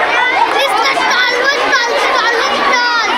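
Crowd of children chattering and calling out at a village school fair with food stalls, a dense, steady mix of many young voices close by throughout.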